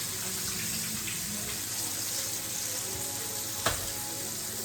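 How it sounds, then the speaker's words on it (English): Hands being washed under a running kitchen tap, a steady close rush of water splashing into the sink with one brief louder knock near the end. "let me just wash my hands"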